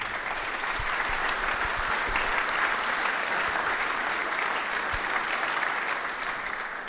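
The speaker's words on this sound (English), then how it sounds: "So everyone, please, a big round of applause for Carlton" A DjangoCon 2019 conference audience gives a speaker a sustained round of applause, a full, even wash of clapping filling the room for about seven seconds.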